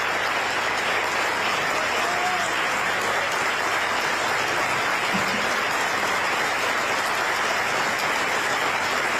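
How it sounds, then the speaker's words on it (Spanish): A crowd at a provincial election event in Argentina applauds a senator, steady and dense for the whole stretch. A faint voice rises briefly partway through. "Un aplauso para Bernardo."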